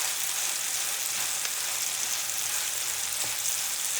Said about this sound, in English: We're going to give it a little stir to get it coated with the oil.